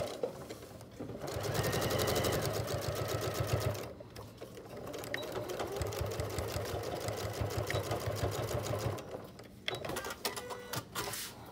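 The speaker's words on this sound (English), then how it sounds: "Top stitch the edge, nice and neat." A sewing machine top stitching the edge of a three-layer fabric mask, running in long steady bursts with a brief pause, loud and close with no talk.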